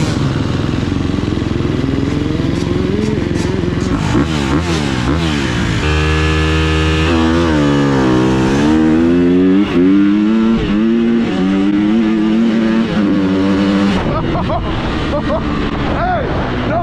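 A Yamaha Raptor 350 ATV fitted with a 600cc motorcycle engine revs loud and close, its note climbing and dropping through repeated throttle blips in a continuous roar, with voices faintly mixed in.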